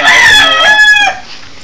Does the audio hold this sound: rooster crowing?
yes